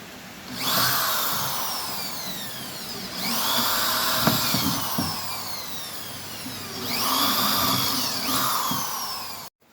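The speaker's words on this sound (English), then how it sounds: "those holes I drilled right there, it just made it easier for me to drive the nails into those 2x4s" A power drill boring holes into 2x4 lumber outdoors on a homestead, three loud sustained bursts rising and falling in pitch with short pauses between them.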